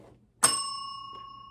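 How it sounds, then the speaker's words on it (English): A single bright bell ding rings out clearly and alone, its clear tone sustaining and slowly fading over about a second, with faint background hum and no talking. "with the bell, and not the dinner bell, the homework bell"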